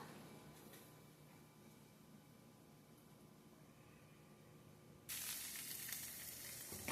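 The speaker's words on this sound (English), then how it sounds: "I'm heating up the taco meat" Taco meat heats on high in a pan, a faint steady sizzle that jumps to a louder, brighter crackle near the end, with no talking.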